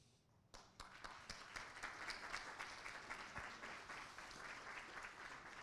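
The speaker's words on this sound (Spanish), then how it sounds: "les damos nuevamente nuestro cariño a través del aplauso" Audience applause at a banking regulators' conference award presentation in Panama, starting with a few sharp individual claps that quickly swell into steady, moderately distant clapping from the room.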